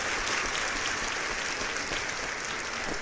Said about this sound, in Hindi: अगेन जोरदार तालियां हो जाए इसके लिए।